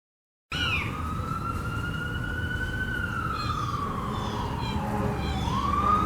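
A police siren sounds in the background, one long wavering wail that slowly rises and falls, starting abruptly after a brief silence and carrying over steady low rumble.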